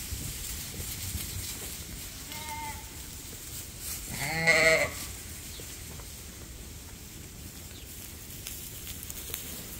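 Sheep and nursing lambs bleat on a farm in wet conditions, with one or two faint calls followed by a single louder, nearer bleat amid steady outdoor background noise.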